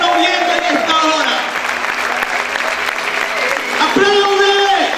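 Steady applause from a church congregation fills the space, with a loud voice and sustained tones ringing out over the clapping.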